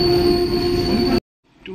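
Visakhapatnam–Shalimar superfast express pulling in at a station platform: a loud, steady rumble of rolling carriages with high, sustained wheel squeal, ending abruptly in near silence.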